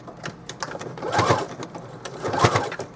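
A sewing machine back stitches through thick Dollar Tree placemat fabric for a backpack, two bursts of rapid whirring stitches close up with brief pauses between, no talking.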